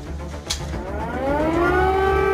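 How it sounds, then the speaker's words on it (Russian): An air raid siren wails in Kyiv, its tone rising and swelling in a long, loud, sustained howl over a low background rumble. "Пока в Киеве звучат сирены, Зеленский сохраняет спокойствие."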